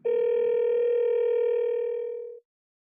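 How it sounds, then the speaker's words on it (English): An iPhone placing a phone call sounds a steady, loud electronic dial tone, one unbroken sustained note that holds for over two seconds and then cuts off abruptly, with no voices. "tapping on a phone number calls that number"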